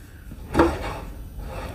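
A drawer slides open in the kitchen island of a two-story Cedar Creek Cottage RV, one short muffled wooden thump and scrape, close and quiet, with no talking.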